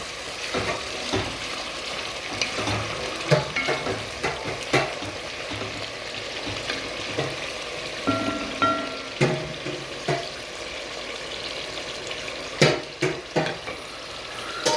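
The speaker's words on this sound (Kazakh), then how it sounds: "болгарский бұрышымызды салып, пиязымызды салып, сәбізімізді салып жарты сағат 45 минуттай осыны қуырып аламыз" Bell pepper, onion and carrot fry in hot oil for Uzbek plov, a steady loud sizzle running throughout with repeated clanks and scrapes of stirring.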